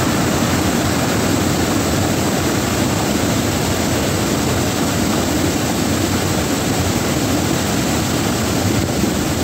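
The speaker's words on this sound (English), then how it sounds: "We're hardcore in the middle of the atmospheric river." Heavy rain driven by wind during an atmospheric river storm near a lake in Abbotsford, British Columbia, a dense, constant roar filling the whole stretch with no pauses.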